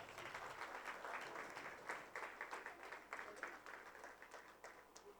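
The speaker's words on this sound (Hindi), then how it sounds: "एक बार डॉक्टर सर के लिए जोरदार तालियां हो जाए।" An audience applauds a doctor at the MSSI Indore Chapter 2024 gathering: a steady wash of many hands clapping, fairly soft and distant, with a few louder surges throughout.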